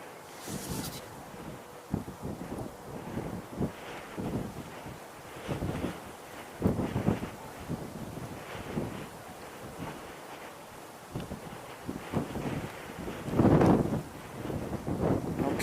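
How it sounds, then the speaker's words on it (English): Wind gusts blowing outdoors during light precipitation, a continuous rushing buffet against the microphone that swells and fades in irregular surges, with no voices. "The wind has picked up, and there's a little bit of precipitation, not much."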